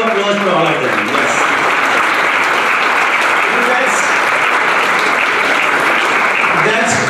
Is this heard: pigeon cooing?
no